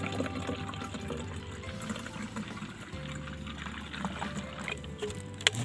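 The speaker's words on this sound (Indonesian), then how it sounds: "kita beri dengan air ini" Water being poured into a pesticide mix for treating a Musang King durian tree, a steady gurgling, splashing pour that runs close and moderately loud throughout, with no talking over it.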